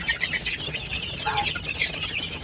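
Dekalb White chicks, six weeks old, clucking and chirping in a busy flock, soft overlapping calls continuing throughout at moderate distance.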